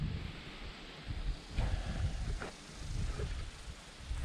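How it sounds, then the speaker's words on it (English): Wind gusts outdoors on a homestead, a broad steady rush buffeting the microphone, with a couple of soft knocks partway through and no talk. "It's kind of windy today."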